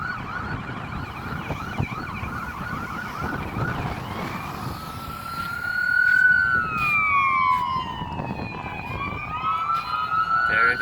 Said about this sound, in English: There is a fire truck.